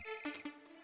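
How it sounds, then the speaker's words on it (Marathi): A mobile phone ringtone, a short bright electronic melody of a few quick tones, close but quiet, alone without speech. "सईचा फोन होता."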